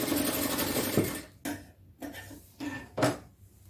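A sewing machine stitches fabric during practice on nighty pattern seams, starting with a steady continuous whirring run, then breaking into several short stop-start bursts of stitching, close and moderately loud with no talking.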